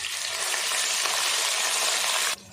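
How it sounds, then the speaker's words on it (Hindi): Onions frying in hot oil with ginger-garlic paste just added for a vegetable biryani, a loud, steady close-up sizzle with faint stirring, cutting off abruptly near the end. "प्याज को अच्छे से हम फ्राई कर लेते हैं।"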